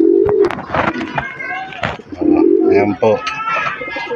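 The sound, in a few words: pigeons cooing in a loft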